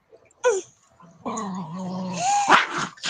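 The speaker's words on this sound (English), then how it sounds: "Dog fighting." Dogs fighting at close range, loud snarls and a sustained growl with sharp yips and whimpering cries mixed in, rising to an intense flurry near the end.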